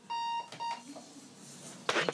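An alarm sounds two short electronic beeps in a television morning studio, close and fairly faint, followed by quiet room noise and a brief burst of noise.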